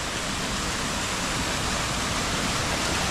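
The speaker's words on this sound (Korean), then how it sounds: "옆에 계곡이 있지? 계곡." Mountain stream rushing beside a Buddhist cave temple in Jecheon, a steady dense roar of flowing water heard close, with no voices or other sounds over it.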